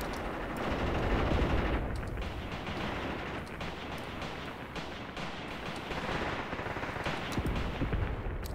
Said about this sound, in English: Did the machine gun open up at you again?